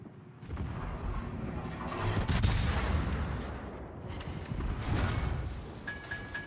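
Warship secondary guns firing in World of Warships, a series of heavy booming shots and rumbling blasts rolling through the battle, moderately loud with brief pauses between volleys.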